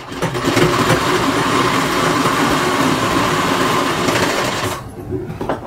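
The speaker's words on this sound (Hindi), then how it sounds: "अब इस ज्वाइंट के ऊपर से लब की सिलाई लगा दे" An electric sewing machine runs a continuous, close, loud seam while stitching a suit joint. It whirs steadily for nearly five seconds, then slows and fades out.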